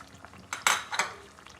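Potatoes and cauliflower stirred with a metal spoon in a cooking pot of aloo gobhi, a few close scraping clanks against the pot with a soft frying sizzle underneath.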